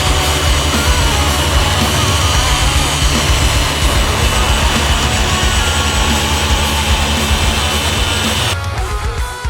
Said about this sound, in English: take a wool pad and your highest cutting cream, try and polish it back up to see what it really looks like